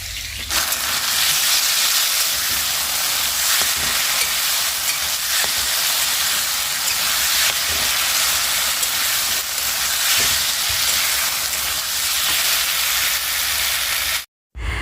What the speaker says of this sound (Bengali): এবারে ভালো করে নেড়েছে একটু চাল কুমড়োটা ভাজা করে নেব